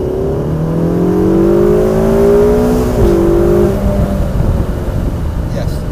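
A Ferrari California Turbo accelerates hard at full throttle, its engine note climbing steadily through a gear, dipping at a shift and rising again, loud and close from inside the car.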